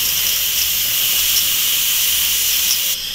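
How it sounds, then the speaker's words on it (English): Steady, loud hiss of steam rushing from an Instant Pot's pressure valve during a quick release after cooking chili, continuous and close for several seconds before dropping slightly at the end. "I am going to quick release the rest of the pressure"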